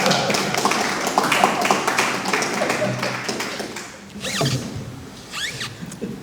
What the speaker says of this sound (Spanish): Aplaudimos la cita.